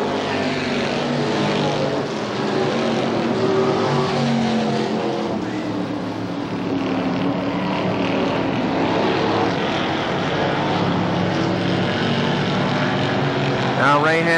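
Race cars roar around the oval at Winchester Speedway in 1993, a loud, continuous engine drone that swells and fades slightly as the pack passes through turns three and four.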